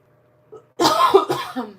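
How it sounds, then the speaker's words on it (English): A short throaty cough close by, followed by a couple of rough, harsh expulsions, preceded by a faint brief noise. "I'm going to cough"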